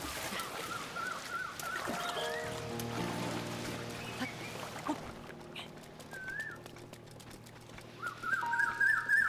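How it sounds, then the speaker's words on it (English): Birdsong and cooing from the Faron region in The Legend of Zelda: Breath of the Wild, several whistled calls and warbles layered over a low droning tone, moderately faint and without talk. "It must have been the birds, Rector. They're so noisy today."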